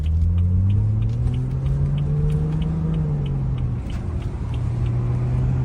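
A BMW F30 pulls away beneath a small bridge, its engine drone swelling steadily and loud, then easing near the end as it echoes off the enclosed space; no one speaks.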